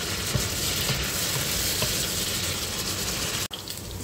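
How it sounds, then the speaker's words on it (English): Steady, dense sizzling of pork frying in a hot pan while being stirred, continuous and close, with a brief break near the end. "Then we start our process of frying. But for now, you just have to keep stirring"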